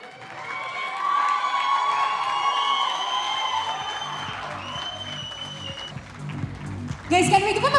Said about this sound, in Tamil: can we give him a bigger round of applause, everybody?